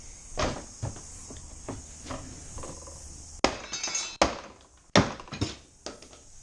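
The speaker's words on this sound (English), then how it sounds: "This is the problem with those rubber mallets." A rubber mallet knocks a replacement splitter into place, landing a few dull thuds and then three sharper, louder blows near the end, each followed by brief clattering, close by with no voices.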